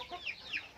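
Chickens cluck softly in a coop, a few short bird calls rising briefly over a low, steady background hum.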